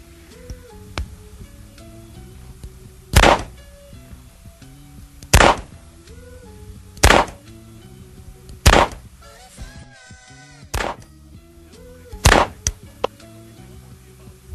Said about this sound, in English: simply drop one cartridge into each chamber and then close the cylinder